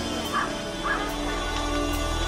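Dogs barking and yipping in quick bursts, fairly close, with some whimpering between barks.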